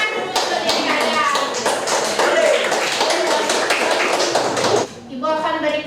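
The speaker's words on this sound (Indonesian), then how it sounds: "Beri tepuk tangan dulu untuk diri kalian" A class of students claps in a dense, sustained round of applause that breaks off near the end, leaving a brief stretch of chatter.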